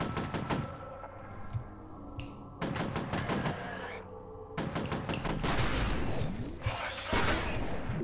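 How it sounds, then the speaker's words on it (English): Shotgun fire in the F.E.A.R. shooter: repeated sharp blasts separated by short gaps, loud and close, among other combat noises, with a person talking over the action. "That is a shotgun."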